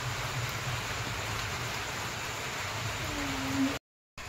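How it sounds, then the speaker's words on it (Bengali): Rain falling steadily outdoors near a temple, a soft even hiss with a faint low hum underneath, cut by a brief dropout near the end; no voices. "আর দেখতে পাচ্ছ বৃষ্টিটা হচ্ছে।"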